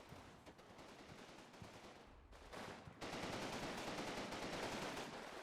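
In the video game Combat Mission: Red Thunder, sustained automatic machine-gun fire rattles on in dense rapid bursts that thicken into heavier continuous volleys, with no voices over it.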